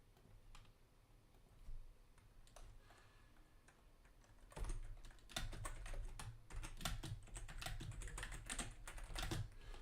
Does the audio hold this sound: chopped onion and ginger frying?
no